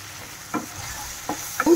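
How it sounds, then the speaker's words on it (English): Fish curry spices being sautéed in a pan with drumstick and fried potato, Bengali style, with a steady sizzle broken by two or three soft spatula scrapes and stirs, close and fairly quiet. "Saute together all. Drumstick and fried potato."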